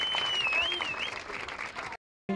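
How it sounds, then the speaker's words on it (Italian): Crowd applause for the new champions after a Muay Thai fight, a dense wash of clapping in a venue with a faint whistle-like tone, ending in an abrupt cut to silence. "un applauso a entrambi"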